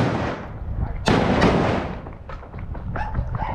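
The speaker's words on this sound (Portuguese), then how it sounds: "Rapaz, tá dando tiro aí, bicho." Gunshots crack out during a street shootout, with a sharp loud bang followed by several further scattered pops and bursts over a rough, noisy background.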